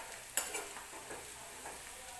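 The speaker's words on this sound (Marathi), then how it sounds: "भाजत झालाय कांदा आपला, आणखी एखाद मिनिट जर भाजला" Onion frying in a pan for a chicken dish, a soft steady sizzle with a spoon clinking and scraping as it is stirred, quiet and close.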